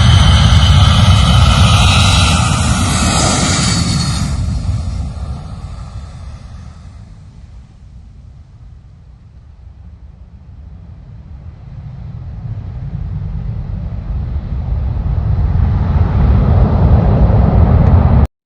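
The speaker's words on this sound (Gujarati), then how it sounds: "જરૂરી દવાઓ અને ફૂડ પેકેજ ભરેલા વિમાનો રવાના કરી દીધા છે" Relief aircraft carrying medicines and food packages drones overhead, a broad engine roar that is loud at first, dips to a low murmur midway, then swells again as it passes close.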